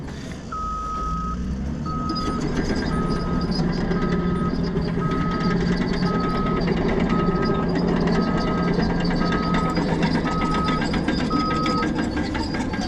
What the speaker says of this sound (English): There's the dozer.